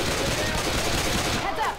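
Rapid pistol fire in a video game, a dense burst of shots running throughout at a steady loud level while a player speaks in Turkish over it.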